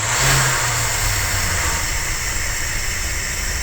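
A warmed-up Dodge 360 V8 in a motorhome runs steadily at a close, even idle with a low rumbling drone and a faint rise at the start, no voices.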